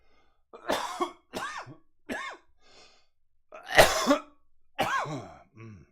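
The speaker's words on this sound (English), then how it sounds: "pardon my coughing" A person coughs and clears their throat in a quick series of about seven short, sharp bursts with pauses between, close but fairly quiet.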